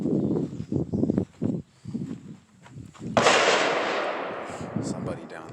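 A single sharp gunshot cracks loudly at an outdoor shooting range and rings out with a long decaying echo, following a stretch of someone talking.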